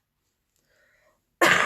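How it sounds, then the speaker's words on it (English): A single sharp, loud cough bursts out near the end after a quiet stretch with only faint background sound. "I keep coughing"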